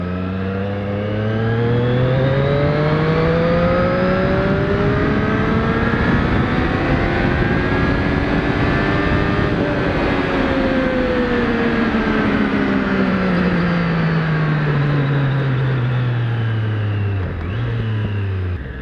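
A Triumph 765 Street Triple RS roadster motorcycle ridden hard, its engine loud and close, pitch climbing through revs then falling away as it slows, continuous with no talk.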